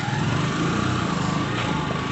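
A small motorbike engine runs steadily close by, a buzzing, even drone with no pauses and no voices.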